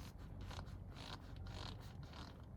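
A tote bag's fabric strap, wrapped tightly around metal hardware, creaks and rubs in several soft, short scraping bursts as the bag is moved, faint and close with no talking.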